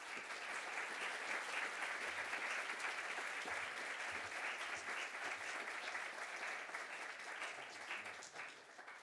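A lecture audience applauds to welcome a speaker giving a talk on immigration, with steady, dense clapping from a large crowd held for several seconds before tapering slightly at the end.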